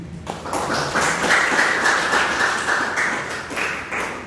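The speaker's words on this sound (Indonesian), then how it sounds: "pertama tepuk tanganlah dulu untuk kelompok 1 yang telah menyelesaikan tugas ini" Sustained applause from a classroom group, a dense burst of clapping that rises quickly and holds steady for several seconds before thinning slightly toward the end.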